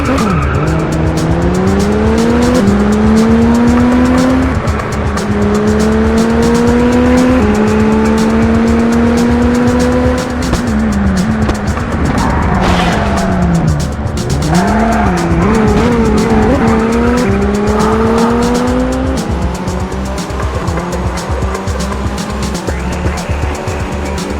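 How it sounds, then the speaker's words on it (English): A race car in a Grand Prix racing video game accelerates with a loud, rising engine whine that climbs through repeated gear shifts, mixed with tire squeals and skidding. "The harder you press the throttle button, the faster you accelerate."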